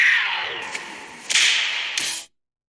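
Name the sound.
whip crack sound effect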